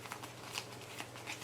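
A deck of cards for the DC Super Heroes United board game gets shuffled in a quick series of soft riffling, flicking rustles, close and quiet with no talk over it.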